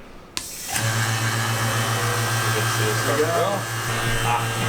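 A vacuum pump runs for carbon fiber forging, starting with a sharp click and then holding a steady, loud motorized drone with a low hum throughout.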